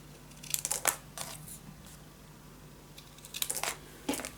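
Paper pieces for a scrapbook mini album are cut with scissors: short bursts of crisp snipping and rustling paper, two clusters separated by a quiet pause.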